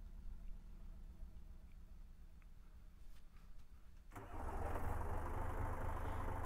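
Truck engine in a farming video game, heard from inside the cab, fires up partway through and settles into a loud, steady rumbling idle after a quiet stretch with a few faint clicks.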